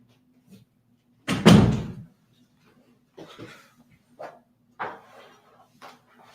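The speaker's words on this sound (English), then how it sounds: "Let me shut this door." An indoor door is pushed shut with a single loud thud near the start, followed by a few quieter knocks and soft handling sounds in a hushed room.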